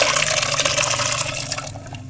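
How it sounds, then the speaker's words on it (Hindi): Water and boiled chickpeas are poured into gravy in a cooking pot for Lahori-style chanay, a loud, close splashing pour that eases off toward the end, with no talk. "पानी भी इसके अंदर डाल देंगे और चने भी"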